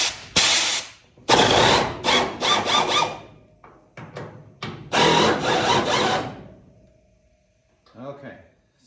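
A ratchet clicks in quick bursts while loosening the hood hinge bolts on a 1966 Mustang, close and fairly loud, with short pauses between runs and a brief voice near the end.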